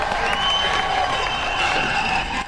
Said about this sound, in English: every 200 metres when I heard those whoops and cheers